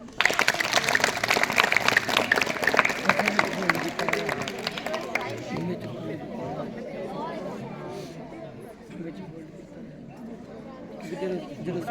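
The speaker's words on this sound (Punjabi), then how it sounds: "ਸਾਰੇ ਜਿਹੜੇ ਆਪਣੇ ਦੇਸ਼ ਦੇ ਵਿੱਚ ਇਸ ਤਰ੍ਹਾਂ ਰਹਿੰਦੇ ਤੇ ਖੁੱਲ ਕੇ ਤਾੜੀ ਵਜਾ ਦਿਓ" An audience claps together at a magic training session, a dense burst of applause that is loud at first, then thins after a few seconds into scattered claps and murmuring crowd chatter.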